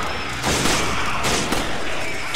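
Rapid gunfire in the video game Resident Evil 5, loud and continuous with a few heavier blasts standing out from the dense shooting.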